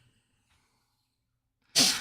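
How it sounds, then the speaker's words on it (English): A single sharp sneeze bursts out at the end after near silence, loud and close. "bless you"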